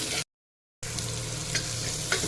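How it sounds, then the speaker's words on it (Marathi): Chopped carrot pieces sautéed in a hot pan for an Karnataka-style carrot stir-fry give a steady close sizzle with stirring scrapes, broken by a brief silent gap before the frying resumes. "हे एखाद दोन मिनटं परतून घ्यायचं आहे"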